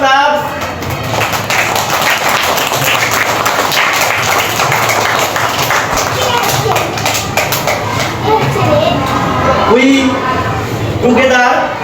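Classroom clapping during an English alphabet pronunciation lesson, a sustained burst of many hands clapping together for most of the stretch, with a child's and teacher's voices coming through near the end.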